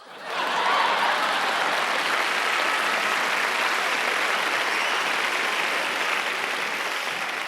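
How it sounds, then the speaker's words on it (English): A large audience at the American Comedy Awards bursts into sustained applause, loud and steady throughout, with clapping filling the whole stretch. "we applaud you."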